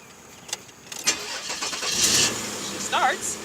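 A van engine cranks and catches, settling into a mid-pitched idle, close by, while people talk over it.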